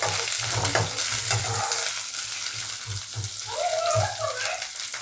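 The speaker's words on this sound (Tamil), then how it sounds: "பாருங்க, வெங்காயம் நல்லா வணங்கிட்டு இருக்குது." Onions with curry leaves sautéing in a pan for a mushroom kurma, a steady broadband sizzle with repeated stirring scrapes and low thumps, close and fairly loud throughout, with no talk.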